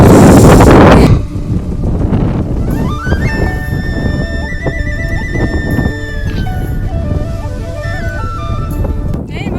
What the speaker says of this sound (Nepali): अनि यस्तो मजाको हावा चलिरहेको